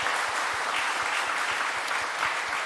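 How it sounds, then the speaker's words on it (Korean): A congregation applauds at an early-morning church revival service, dense steady clapping filling the room, with a rhythmic low thump beating underneath. "우리 새벽을 깨워주신 하나님께 영광의 박수 올리겠습니다."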